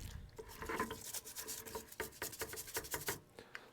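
A wet brush scrubs a golf club head in quick, uneven strokes, a soft close rasping and rubbing with faint watery drips, fairly quiet and with no talking.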